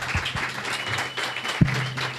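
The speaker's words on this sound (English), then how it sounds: "Give her a big round of applause." An audience at a convention voice-actor panel gives moderate applause, a brief scattered clapping with a few louder thumps nearby, set against room noise.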